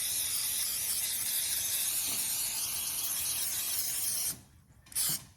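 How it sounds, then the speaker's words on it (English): A long, steady cooking-spray aerosol hisses onto a mini muffin pan for about four seconds, stops, then a short second burst follows, close up with no talking. "I got my mini muffin pan here. We're gonna give it all a spray"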